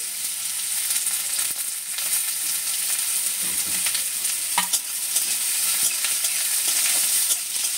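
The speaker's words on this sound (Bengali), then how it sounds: "গাজর আর ক্যাপসিকামটা একসাথে দিয়ে দিচ্ছি" Chopped carrot and capsicum fry in a hot pan with leftover rice, a steady bright sizzle running throughout with occasional soft scrapes and stirring clatter, close and without talk.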